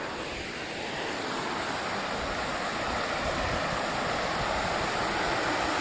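A forest waterfall pours in a steady, loud, broadband rush that stays constant and close throughout, with no voices.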